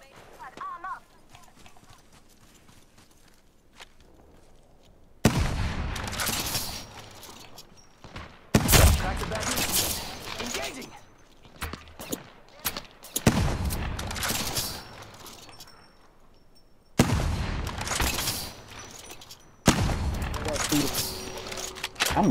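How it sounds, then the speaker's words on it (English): Gunfire in the video game Apex Legends arrives in loud, dense bursts of rapid shots separated by short quiet gaps, up close and dominant, with a voice talking over parts of it. "I'm not missing these shots."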